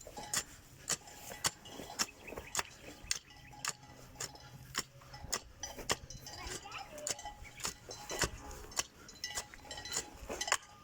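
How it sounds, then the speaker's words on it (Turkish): A hoe digs a garden channel through sandy, pebbly soil, producing a regular series of sharp metallic clinks and scrapes, moderately close amid faint outdoor background. "Gördüğünüz gibi kumların da çıngır çıngır çıngır sesleri geliyor."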